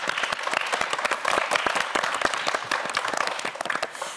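A studio audience at a Korean TV quiz show applauds a winning student, a dense, sustained burst of many hands clapping at steady loudness without talk.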